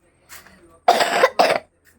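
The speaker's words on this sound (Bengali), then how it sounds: "কাশি হচ্ছে।" Two close, loud coughs in quick succession from a person with a lingering cough and cold after a fever, preceded by a soft breathy exhale.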